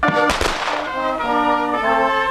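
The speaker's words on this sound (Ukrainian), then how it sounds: "військові виконали салютні постріли із автоматів" Military salute volley fired from automatic rifles at a funeral ceremony in a Ukrainian cemetery: a sharp, loud burst of shots near the start, then sustained tonal sound.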